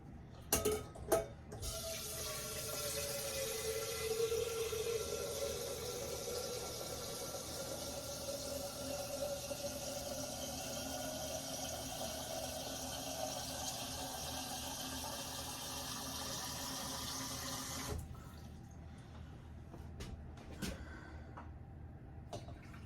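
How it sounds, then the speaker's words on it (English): Water pours steadily from an outdoor spigot, a continuous faint rushing flow with a slowly shifting tone, running for most of the stretch before cutting off. "there's water that comes out of that spigot over there"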